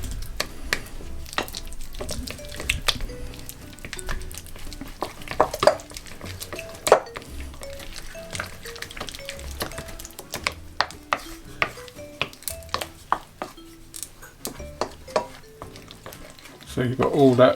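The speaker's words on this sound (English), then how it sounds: "You're going to be mixing these together until they're blending." Carrot cake ingredients for a Jamaican carrot cake being mixed together in a bowl, with repeated clinking and scraping strokes of utensil against the bowl, irregular and close, growing busier toward the end, with no talking.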